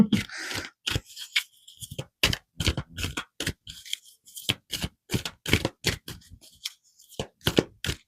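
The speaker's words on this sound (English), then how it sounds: "I love to use these cards, but they're very difficult to shuffle." Repeated crisp riffling and slapping of cards being shuffled by hand, in uneven bursts with short pauses between them, close up.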